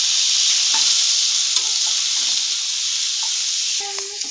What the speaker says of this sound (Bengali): একটু লবণ, একটু হলদি দিয়ে ভেজে নিচ্ছি